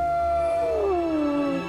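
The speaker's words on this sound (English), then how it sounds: "They're wolves." Wolves in the video game Fable 3 howl in a single long, sliding cry that bends downward over a steady low background, close and fairly loud, with no talking.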